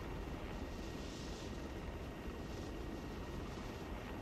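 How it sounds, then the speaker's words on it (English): A helicopter in the video game Arma 3 drones overhead with a steady, dense rotor and engine roar, constant and fairly loud with no voices. "It's a helicopter."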